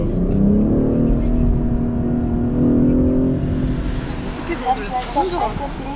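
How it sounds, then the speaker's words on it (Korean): A BMW 8 Series coupe in sport mode hums with a steady engine drone from inside the cabin, then a few sharp exhaust pops and crackles burst out near the end. "이 스포츠 모드로 넣으면은 가상 엔진 음도 들어오고 팝콘도 좀 터져"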